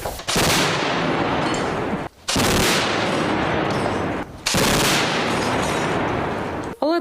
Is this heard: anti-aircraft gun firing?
yes